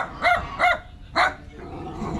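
Three sharp barks from a dog, the first two close together and the third after a short gap, followed by quieter background noise.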